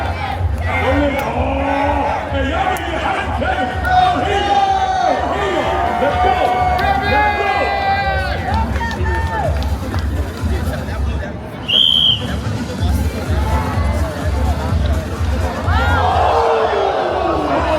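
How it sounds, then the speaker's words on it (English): A crowd at a greased pole event in Philadelphia cheers and shouts continuously, with loud, dense babble, whoops and excited voices close around, and a whistle cutting through partway. "People are cheering for Kevin."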